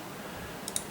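A computer mouse clicks twice in quick succession near the end, quiet and close, against a faint room hush while working in Cricut Design Space.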